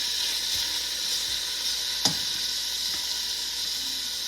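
Fajita vegetables sauté in a pan, giving a steady, close sizzle and hiss that runs throughout, with one sharp clink of a utensil partway through and a few faint stirring sounds.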